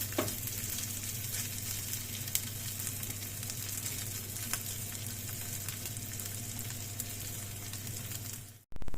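Steady, close sizzling of pork fat rendering in a frying pan, a continuous crackling hiss with occasional pops, ending abruptly.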